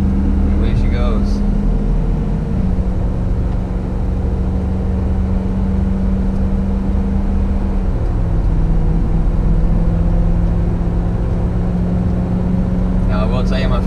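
A 2017 Ford F-250 Powerstroke diesel pickup labors uphill at full throttle while towing 13,800 lbs, a sustained loud engine drone from inside the cab with a steady pitch that shifts once, and brief talking at the start and end.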